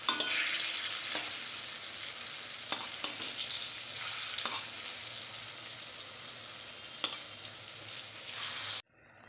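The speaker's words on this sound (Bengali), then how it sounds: "দেখো এই যে একটু লাল লাল করে ভেজে নিতে হবে" Matar dal fritters frying in hot oil, a steady close crackling sizzle with occasional sharp pops and light scrapes from turning, fairly quiet, ending abruptly.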